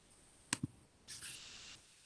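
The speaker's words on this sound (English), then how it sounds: "So I'm going to actually click submit." Two quick, crisp computer mouse clicks sound close together in a quiet room. A brief soft rustle follows.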